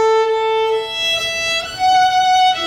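A child plays Twinkle Twinkle on a bowed string instrument, a few sustained notes stepping from one pitch to the next, near and moderately loud, slightly rough in tone.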